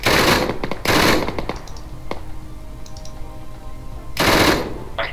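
Gunfire in the video game Arma 3, with bursts of loud automatic fire at the start and end and a few scattered single shots and clicks in between, heard alone.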